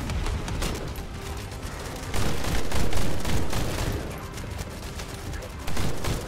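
Sustained automatic gunfire aimed at an elite warden in the video game The First Descendant, dense rapid shots running continuously with surging intensity, loud and close.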